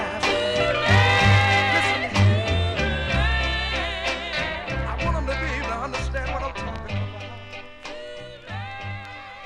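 A full-band 1960s soul record plays loud and steady, with horns, bass and drums driving a brisk groove and no talking over it.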